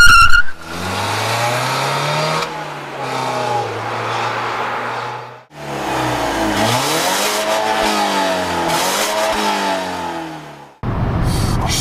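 A BMW 316i E46 accelerates hard and downshifts. The engine roars loud and close, its pitch climbing through each gear. It drops off sharply at two shifts before rising again, with no talk.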